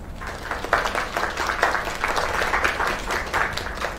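A crowd in the video game Lake bursts into sustained applause after a singing performance, many hands clapping in a dense, lively wash that swells and holds steady for several seconds without talk.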